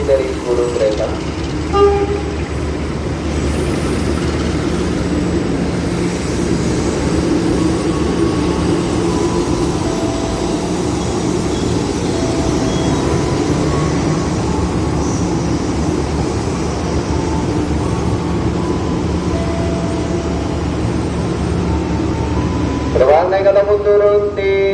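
Night arrival of commuter train K5446, a ten-car set, at Jatinegara station: a steady loud rumble of wheels and running gear fills the scene for over twenty seconds, with a brief horn-like tone near the start and a rising whine at the end.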